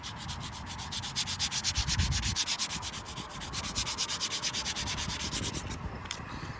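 Sandpaper rubbing lightly over a leather steering wheel during a repaint job makes a fast, rhythmic back-and-forth rasp, close and steady, stopping just before the end.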